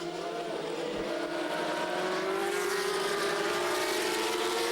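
F3000 race cars scream around the Oschersleben circuit in a 2006 International Masters race. Engine notes rise steadily in pitch as the cars accelerate, loud and continuous, with a dense roar of several cars together.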